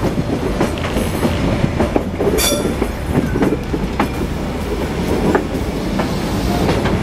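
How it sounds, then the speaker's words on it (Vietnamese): A train rolls slowly onto a branch track at Nông Sơn station in Vietnam, with steady rumbling, clickety-clack of wheels over the points and a brief high squeal. It is close and loud, and no one speaks. "chú trực ban đang vẫy cờ chứng tỏ là tàu đang vào đường rẽ nè mọi người"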